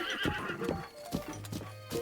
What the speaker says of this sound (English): I'll get the white horse already.